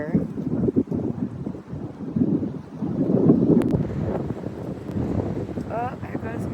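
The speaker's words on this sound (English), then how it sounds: "It's getting so windy, it's blowing more dust up into our fields here." Gusty wind buffets the microphone outdoors during a winter wind storm that is lifting dust off open fields, rising and falling in loud rumbling surges, with a person talking between the gusts.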